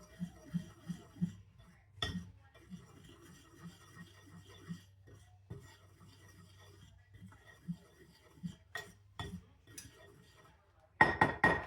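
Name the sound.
mixing chocolate chip cake batter in a bowl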